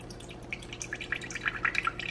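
Low sodium soy sauce trickles slowly from a brand-new bottle with a shaker-style stopper top, giving a run of small, close dripping plinks over a steady low hum.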